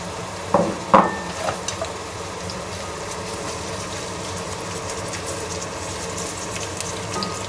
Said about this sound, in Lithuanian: Taigi dedame mūsų svogūnus ir šiek tiek apkepiname